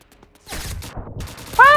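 Gunfire from a sniper rifle in a first-person shooter video game, a burst of shots and impacts lasting about a second, loud and close, followed by a sharp ringing tone.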